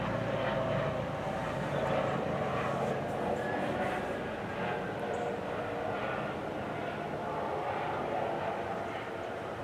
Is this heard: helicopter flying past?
yes